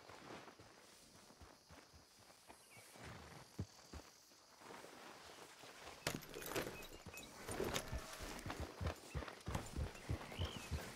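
Horse hooves clip-clopping in the Red Dead Redemption 2 video game, soft at first then a louder, quicker run of hoofbeats in the second half.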